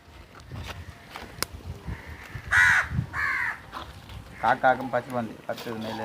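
Several harsh caws from crows nearby, in short bursts, mixed with a person talking and some background shuffling.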